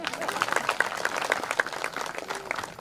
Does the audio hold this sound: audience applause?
yes